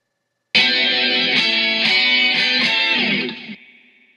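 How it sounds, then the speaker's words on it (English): An electric guitar riff in six-part harmony, with distorted, layered guitar lines. The full harmony plays a short run of chords for about three seconds, then rings out on a long sustained chord. "a six-part harmony guitar riff that should sound something like this when you put all the parts together"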